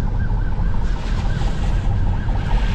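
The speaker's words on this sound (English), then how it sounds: "Got a police car coming." Police car siren wailing along the road, a steady warbling tone rising and falling over loud rumbling traffic and engine noise, continuous and fairly close throughout.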